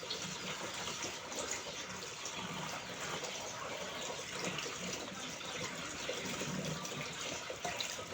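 Water piped down from the mountain at Monte Saron runs from a tap in a steady, quiet gush, continuous with no voices.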